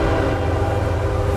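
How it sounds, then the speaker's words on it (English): A large freight train passing through Piscataway, heard as a loud, steady rumble with a sustained tonal hum, close by and unbroken, with no talk. "Another thing you will find in Piscataway are trains."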